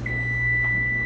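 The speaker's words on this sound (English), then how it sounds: "That's the sound of the pizza ready" An oven beeps to signal the pizza is ready: a single sustained electronic tone lasting about a second over a low steady hum.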